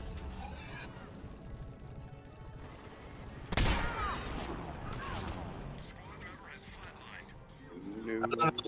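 A loud gunshot rings out in Mass Effect 3 multiplayer, followed by a noisy burst of impact and combat sound. Voices chat before and after.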